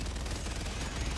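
Gatling turret in Helldivers 2 fires a rapid, unbroken stream of shots. It sounds dense and steady at a moderate level for the whole moment, with no talking.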